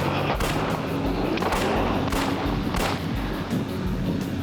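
Loud, dense bursts of police gunfire crackle over a roaring, noisy background, with several sharp blasts standing out.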